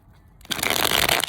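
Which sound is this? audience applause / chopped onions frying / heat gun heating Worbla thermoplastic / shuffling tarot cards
shuffling tarot cards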